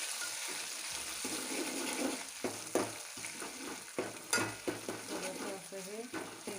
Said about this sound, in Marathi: थोडंसं असं हे तेलामध्ये तळून घ्यायचं।